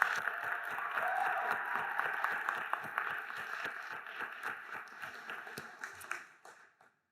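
Audience applause at a health sciences celebration, steady soft clapping that gradually thins and fades out toward the end, heard from a distance.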